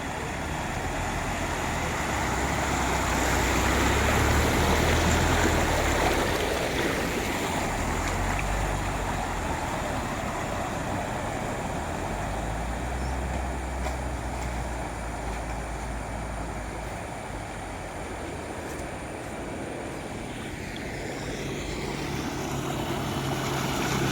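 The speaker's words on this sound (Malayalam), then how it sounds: "ഇതാ ഒരു വാഹനം കൂടെ കടന്നു വരും." A continuous low rumble of a vehicle engine driving through floodwater on a road, mixed with rushing, churning water, steady and fairly close, swelling slightly and easing off over time.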